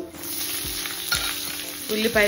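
Chopped onions fry in hot oil for a bitter gourd stir-fry, a dense close sizzle with quick scraping stirs of a spatula against the pan, steady throughout and without speech.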